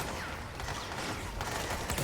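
Video game gunfire in Control, a dense, continuous clatter of shots with no clear gaps, steady and fairly loud across the whole stretch, no voices on top.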